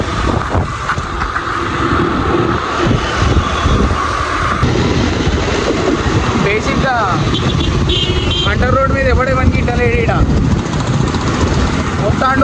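Motorbike engine running steadily just after starting on a Warangal street, loud and close, with a continuous drone and passing traffic around it while someone talks.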